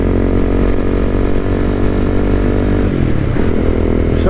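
A Honda CB300R motorcycle rides along a tree-lined road, its engine droning loud and steady close by, with a brief dip and recovery in the note near the end.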